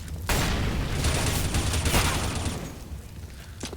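In Counter-Strike, an incendiary grenade whooshes and crackles into a burst of fire mixed with gunshots, loud and dense for a few seconds before fading into lingering burning noise.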